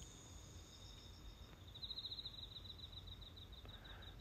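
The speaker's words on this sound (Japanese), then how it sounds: "コオロギの声ですよ。" Crickets chirping in late summer, a faint steady pulsing trill in a quiet outdoor setting, continuous and distant with low background hum and no talking.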